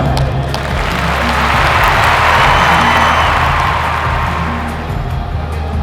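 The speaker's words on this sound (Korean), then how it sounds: "여러분 큰 박수 부탁드리겠습니다" An audience applauds the referee as he is introduced at a 2021 recurve archery special match, with broad continuous clapping that swells in the middle and tapers slightly toward the end.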